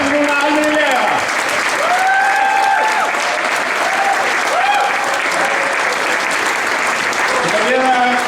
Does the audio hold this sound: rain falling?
no